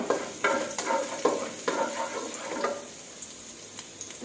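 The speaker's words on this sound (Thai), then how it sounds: "กระเทียมลงไปผัดเลยค่ะ" Garlic stir-frying in a wok for wide rice noodles with minced pork in gravy, with repeated scraping stirs over a steady close sizzle that thins out toward the end.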